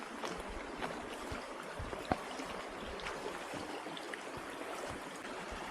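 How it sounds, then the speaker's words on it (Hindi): A mountain stream flows through a pine-forested ravine near a village in Uttarakhand, a faint, steady rushing and trickling of water heard from a distance with no voices. "वो सामने पानी का गधेरा, अब दिखाता हूं आपको"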